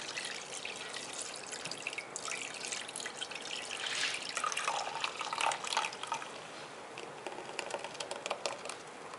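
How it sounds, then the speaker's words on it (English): Homemade almond milk draining through a mesh strainer lined with cheesecloth, a steady soft trickling and dripping of liquid heard up close with no talking. "what we're going to do is drain off our almond milk"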